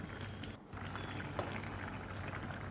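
A stingray fish curry with curry leaves simmers in a pot, making a quiet, steady bubbling and gurgling with a brief dip partway through.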